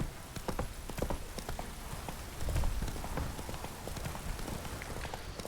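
Horse hooves galloping in The Witcher 3 video game, a loud steady clip-clop rhythm of a running horse with brief voice sounds over it.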